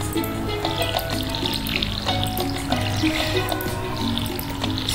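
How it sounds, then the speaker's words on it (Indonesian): Steady trickling water pours continuously, like a can sprinkling onto soil, with soft layered tones and gentle background music, no voices, as crops are watered in Stardew Valley. "Pertama siram tanaman."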